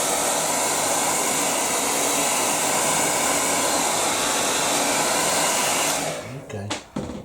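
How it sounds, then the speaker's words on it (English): A hair dryer blows loud and steady at close range to dry a watercolour painting, then cuts off near the end, leaving a few small handling knocks. "Now I'm just going to dry that quickly."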